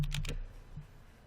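A short burst of computer keyboard typing, a few quick close clicks followed by a single softer keystroke, quiet and alone.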